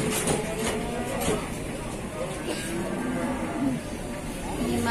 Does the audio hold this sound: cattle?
yes